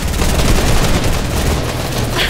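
Gunfire in a Fortnite short film, a steady loud barrage of rapid shots filling the whole stretch, dense and close with no voices.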